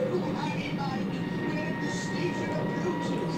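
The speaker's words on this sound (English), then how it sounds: "There's the train, Mike." A train runs through railway footage from the Stingray puppet series, a steady rumbling clatter of rail wagons under a voice talking over it.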